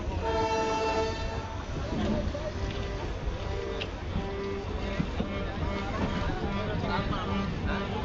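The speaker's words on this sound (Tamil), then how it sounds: "அங்கேருந்து நம்ம ட்ரெயின் டிபார்ட் ஆகிடுச்சு." The Rameshwaram-Tambaram train departs, a steady rumble of rolling rail cars with a long horn sounding near the start, continuous and fairly close, with people talking underneath.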